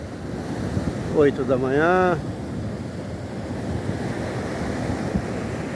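Sea waves roll onto Grussaí beach in Rio de Janeiro state as a continuous roar of surf mixed with wind buffeting the microphone, while someone speaks briefly near the start.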